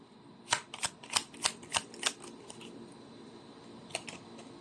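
Tarot cards handled and pulled from a deck, a quick run of about seven crisp, light snaps in even rhythm, then a pause and two fainter flicks, close and quiet.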